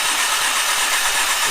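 A Honda CX500 motorcycle engine under rebuild turning over on the starter without ignition, a steady dense mechanical whirr and rattle held close and continuous, with no voices.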